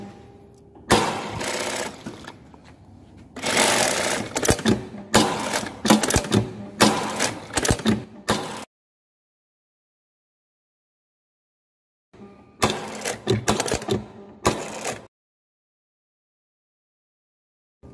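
Brother two-needle industrial sewing machine, T8422C/T8452B type, running in several short rapid stitching bursts with a long silent gap before two final bursts, close and clear.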